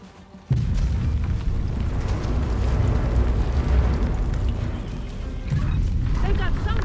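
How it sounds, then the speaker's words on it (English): Mortar barrage explosions in the video game Tom Clancy's The Division 2 arrive as a sudden booming onset, then a continuous rumbling wash of blasts that carries on for several seconds, with a voice talking over it. "The first barrage is on its way."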